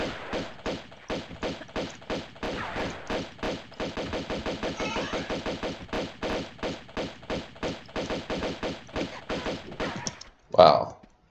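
Rapid bursts of gunfire ring out in the video game Tomb Raider 2, dozens of sharp, evenly spaced shots in a steady rhythm, ending with a louder crash.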